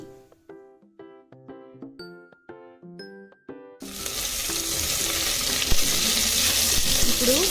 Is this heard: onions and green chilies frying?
yes